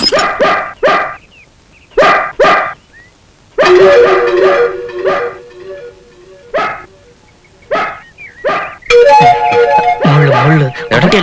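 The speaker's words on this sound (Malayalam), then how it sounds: "ഏട്ടാ പട്ടി കടിക്കോ? ഒരയ്ക്കുന്നോണ്ട് ചോദിച്ചതാ." A dog barking loudly and close by in repeated bursts, with sharp barks separated by pauses and some longer yelping, whining stretches in between.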